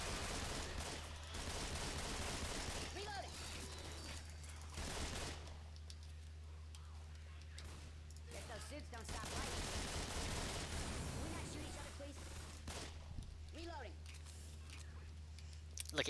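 Shotgun and other gunfire in the video game Left 4 Dead 2 comes as scattered sharp bursts and pops amid game noise, with a player's voice talking over parts of it.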